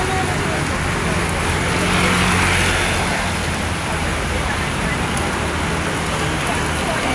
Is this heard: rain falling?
yes